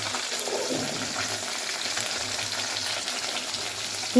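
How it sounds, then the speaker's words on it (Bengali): Fresh fish fries in a pan with a steady, even sizzle and crackle, close and continuous, with no voices over it. "ওদিকে মাছ ভাজা বসিয়ে দিয়েছি"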